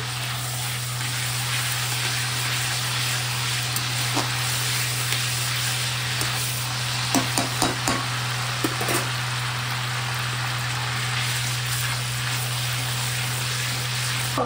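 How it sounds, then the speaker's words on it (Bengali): Cinnamon, two bay leaves and cumin sizzle in hot oil while being stirred, a soft steady crackle under a constant hum, with occasional small clicks and pops, busier toward the middle. "আর একটু দারচিনি তেলের মধ্যে দিয়ে দিলাম, আর এই দুটো তেজপাতা দিয়ে দিলাম, একটু জিরা দিয়ে দিলাম, তারপর একটু নেড়ে নিলাম।"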